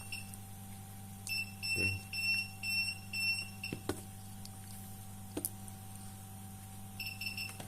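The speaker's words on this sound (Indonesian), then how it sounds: "Kita coba di mode proteksi, pasti power supply-nya bunyi." A bench power supply in protection mode, used to service an Infinix Note 30i phone that is dead with a full short, gives faint repeated high-pitched beeps in short trains over a low electrical hum, with a brief spoken word.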